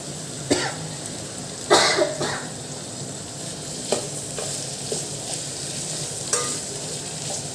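Mint leaves sautéing in a hot pan, a steady soft sizzle with a few sharp scrapes and clinks of a spoon stirring, plus a brief cough or throat clearing; no speech.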